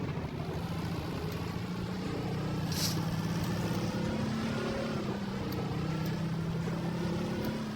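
A Tofaş Şahin car engine drones steadily while being driven in a video game, with a continuous mid-low hum that rises slightly in pitch as it accelerates, plus a brief high hiss partway through.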